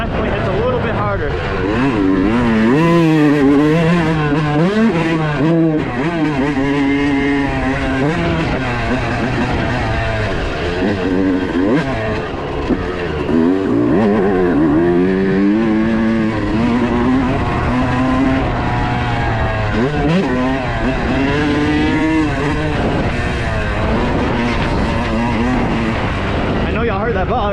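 A Yamaha YZ125 two-stroke dirt bike, compared in stock 2026 and modified 2018 forms, revs and winds up through the gears, loud and close, with a rider's voice heard over the engine.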